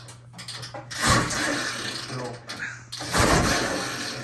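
A rebuilt 1965 Ski-Doo Chalet snowmobile engine with a new piston and bearings is cranked over twice, each pull giving a loud, rough mechanical burst of about a second and a half over a steady low hum, close by.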